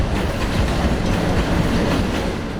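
A train rolls through a railway station used by refugees leaving Ukraine, a steady, loud rumble with rhythmic clickety-clack of wheels over rail joints, continuous throughout and fading slightly at the end, with no voices.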